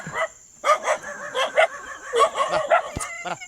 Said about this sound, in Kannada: ಈ ನಾಯಿನ ಅಬ್ಸರ್ವ್ ಮಾಡಿ ಹೆಂಗಿದೆ.